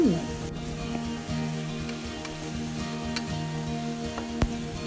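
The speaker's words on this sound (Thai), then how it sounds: "แล้วก็ผัดไปสักแป๊บนึง" Filling for Kuih Ketayap stir-fried in a pan with a pinch of salt makes a steady soft sizzle, heard beneath a voice and tonal background sounds, with a sharp clack near the end.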